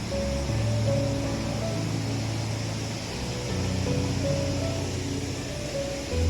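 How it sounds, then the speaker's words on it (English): A river flows steadily during a hike toward Mulkharga, its rushing wash continuous and fairly close, with a faint low hum running underneath. "So hear the sound of the river."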